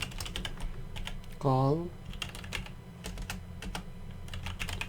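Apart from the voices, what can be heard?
typing a terminal command on a computer keyboard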